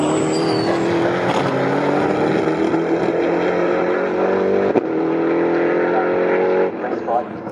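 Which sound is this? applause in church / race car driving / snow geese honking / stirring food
race car driving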